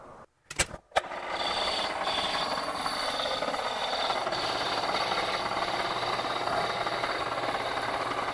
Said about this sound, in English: And now I can part this off.